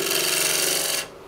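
A tool roughs out wood for a birdhouse against the grain, making a steady, close rasping and rubbing scrape that cuts off abruptly near the end.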